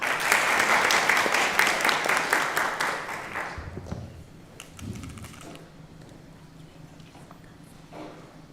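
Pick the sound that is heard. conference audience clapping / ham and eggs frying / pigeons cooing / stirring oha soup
conference audience clapping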